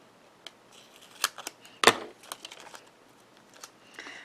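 Scissors snip card stock for slimline cards in a few sharp, close cuts, one loud crisp snip standing out among softer clicks and rustles of paper, in a quiet room.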